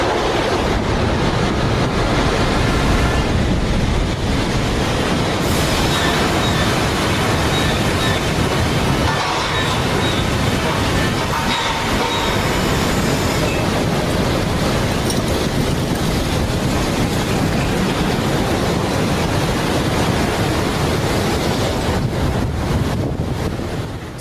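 Giant storm waves crash over a sea wall in an Italian coastal village, a loud, continuous roar of surf and churning water with heavy wind buffeting throughout.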